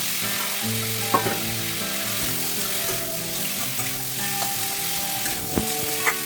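Mushrooms fry in a hot pan with salt, giving a steady close sizzle and crackle that fills the whole stretch alone, with a few sharp clinks of stirring.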